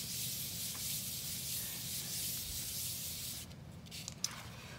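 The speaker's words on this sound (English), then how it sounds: "rub my hand on the back" A hand rubs briskly across the back of a glued paper piece on a black-and-white abstract composition, making a soft, continuous papery swishing that stops near the end with a small tap.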